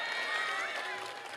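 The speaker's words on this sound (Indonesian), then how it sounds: "Tepuk tangan ya." Crowd clapping outdoors at an evening advice gathering in heavy rain in Bekasi, a short dense burst of applause at fairly even loudness throughout.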